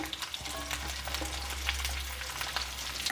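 Onions and spices fry for an ivy gourd masala curry with a dense, steady sizzle, broken by occasional scrapes from a stirring spoon, close and continuous.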